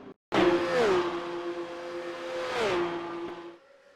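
Race cars at Le Mans in iRacing's Porsche Cup drive close together in a slipstream, a loud, steady engine drone whose pitch drops as the cars sweep past, then fades briefly at the end.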